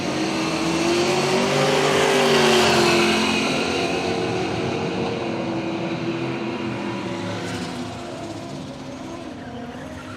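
Holden Commodores, including a tough station wagon on blown street radials, drag racing at Willowbank Raceway in Australia: a loud engine roar swells, then fades into the distance.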